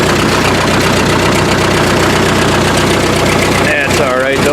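An old, rusty Ford 8N tractor engine idles steadily and loudly close by, a continuous low rumble with a faint knock. The engine note shifts near the end.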